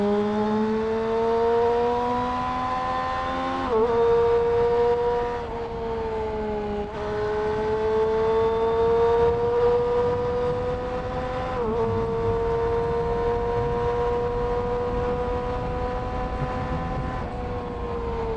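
A motorcycle accelerating with smooth, linear throttle response: a sustained, close engine tone climbs steadily in pitch, with brief dips at each gear change, heard alone without talk.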